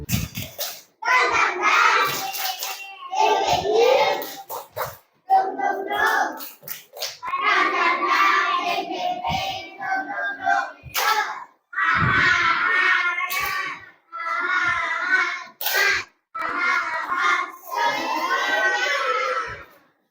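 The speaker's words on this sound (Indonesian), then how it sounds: "Coba biar semangat dulu nih, kita tepuk semangat." A group in a classroom performs tepuk semangat, a rhythmic spirit clap, with sharp repeated claps in short bursts and voices chanting loudly along in a patterned cadence, separated by brief pauses.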